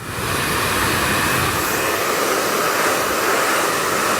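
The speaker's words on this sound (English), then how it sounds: "You can see by the power of this dryer, I'm not having to hold the nozzle too close to the hair" A powerful hair dryer blows on a bob haircut, a loud, steady, close-up rushing roar that starts abruptly and runs unbroken.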